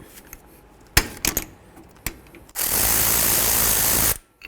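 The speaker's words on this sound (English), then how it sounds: "we're going to use a 13mm socket on this side, and we're going to remove this bolt" Mechanic's tools on a 2006–2018 Jeep Wrangler rear brake caliper: a few sharp metallic clicks and clunks of a 13mm socket being fitted, then a loud continuous whir of a power tool spinning out the slider bolt, stopping abruptly.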